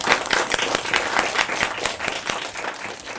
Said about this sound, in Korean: 우리 하나님께 영광의 박수 돌려드리겠습니다.